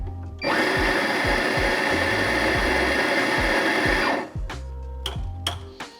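An electric coffee grinder grinds espresso beans with a loud, steady whirring roar for about four seconds, then stops, followed by a few knocks and taps nearby.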